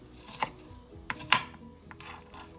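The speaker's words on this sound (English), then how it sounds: "So a serious rough chop on the onions" A knife rough-chopping onions on a board, a few sharp, close, irregular chops separated by short pauses, with no talk.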